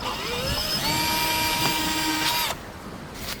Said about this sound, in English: what I'm going to do is drill a pilot hole